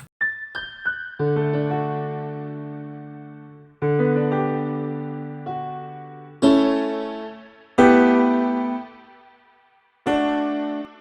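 Piano phrases drenched in a lush, shimmering reverb from a Baby Audio Crystalline plugin, struck chords blooming and trailing off between pauses; no voices.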